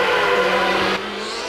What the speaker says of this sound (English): we can hear him go out of the pits again as well